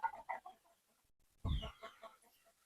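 Backyard chickens clucking close by in a few short bursts, then one louder low cackle, fairly faint overall.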